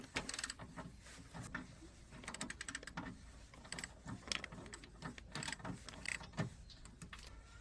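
Ratchet clicking in short bursts while a wishbone bolt on a Nissan Leaf suspension is loosened, close up, with metallic clanks and pauses between strokes.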